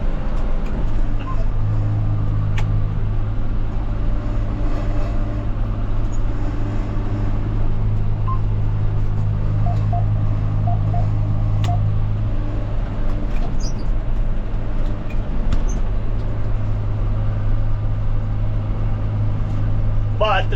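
A white plow truck, seven years old and worn from plowing snow and spreading salt, idles with a suspected exhaust leak, giving a continuous loud low rumble and rattle close by.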